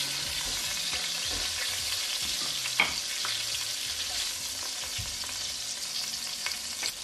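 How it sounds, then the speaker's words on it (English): Beef short ribs browning in a pan, producing a steady, dense sizzle and crackle with occasional soft scraping, continuous and close. "These ribs are now nicely browned. We're just going to remove them from the pan"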